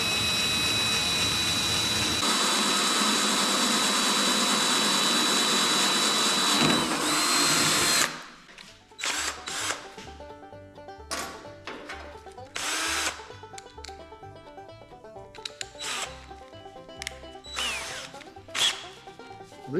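A power drill whines loudly and steadily for several seconds drilling a pilot hole in metal, then stops; afterward come intermittent short bursts of drilling and clattering.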